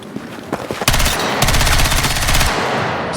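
In Battlefield 6, a player runs and then opens fire, with a few footstep thumps followed by a loud, continuous automatic-weapon burst that stutters and keeps going to the end.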